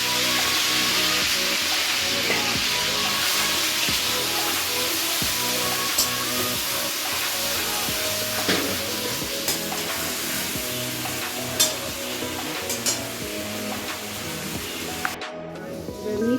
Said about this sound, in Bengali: তেজপাতা দিলাম, আদা, রসুন, পেঁয়াজ, লঙ্কা, এগুলো তেলের মধ্যে দিয়ে দিলাম।